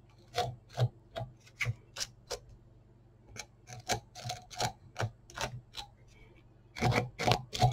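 Dubbing brush teasing the fur on a mini zonker fly, close scratchy rasping strokes in an uneven rhythm with short gaps, then a quicker flurry at the end.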